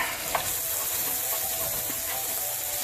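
Garlic and onions frying in a pan while crawfish is cooked, giving a steady close sizzle with faint stirring clicks throughout and no voices.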